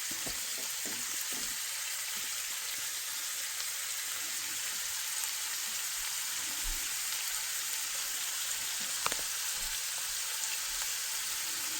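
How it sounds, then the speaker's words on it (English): Curried goat meat sautés in a pot for Jamaican curry, giving a steady, close hiss of sizzling with occasional faint stirring knocks and no talking. "You also have to burn the curry and make the meat saute nice."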